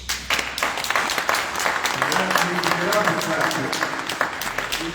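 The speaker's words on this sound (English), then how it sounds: "For that, we need to clap for her." A congregation applauding at a memorial celebration of a life, a dense patter of many hands clapping at moderate level, with voices speaking and calling out underneath.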